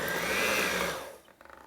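An electric stand mixer whirs loudly and steadily while blending cream cheese and powdered sugar frosting, then winds down and stops, leaving a few faint clicks.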